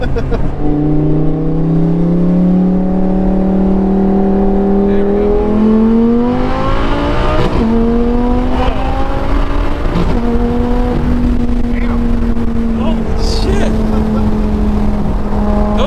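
A 2011 Lamborghini Gallardo Superleggera LP 570-4 engine revs hard and climbs in pitch, with sharp, violent breaks as it shifts through several gears, loud and close.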